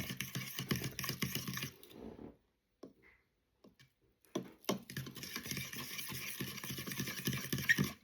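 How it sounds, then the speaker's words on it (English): Vanilla yogurt cake batter whisked quickly in a bowl: rapid rhythmic clicking and tapping in two close, busy bursts separated by a brief quiet pause. "I'll just whisk it quickly."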